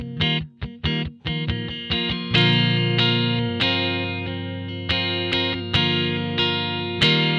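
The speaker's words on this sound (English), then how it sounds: "start getting some really nice distortion" Electric guitar run through a Sansamp distortion plugin in Pro Tools, playing loud, sustained distorted chords and stabs with a gritty buzzing tone, starting with short choppy hits and then settling into longer ringing strums.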